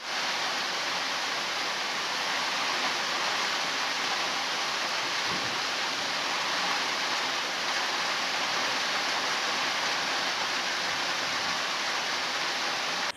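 Heavy rain falls outside a home in Balasore, Odisha: an unbroken, loud wash of hissing noise that holds steady for the whole stretch, with no voices over it.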